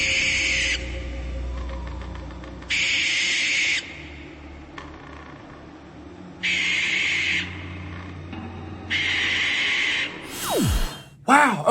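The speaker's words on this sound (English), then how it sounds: "It just flaps its wings and makes screeching noises." Spirit Halloween night owl animatronic, a Halloween prop, giving repeated loud electronic screeches in separate bursts about two seconds apart over a low mechanical hum, ending with a sharp falling electronic sweep.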